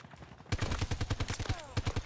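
Rapid bursts of automatic gunfire in the video game Battlefield 2042, a fast even string of loud close shots after a brief quiet start, pausing briefly before resuming.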